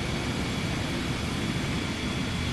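MD-11 jet airliner engines in Flight Simulator X give a steady, dense broadband roar with a faint high whine, unchanging throughout and heard without any voices.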